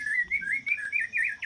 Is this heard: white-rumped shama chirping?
yes